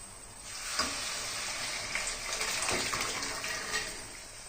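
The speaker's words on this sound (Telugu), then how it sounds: "ఇప్పుడు ఈ శనగలు ఇలా పోస్తున్నాను." Chickpeas are poured into a hot pan and give a continuous bright hiss and sizzle, with soft rustling swells as they land and settle, close and fairly steady throughout.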